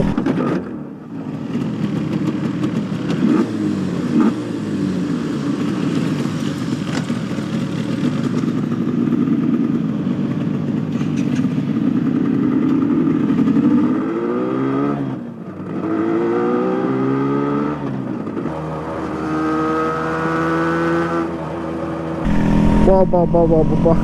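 A Yamaha RX100 100cc two-stroke twin-cylinder motorcycle engine revs loudly and continuously, its pitch climbing and falling through several throttle blips near the end.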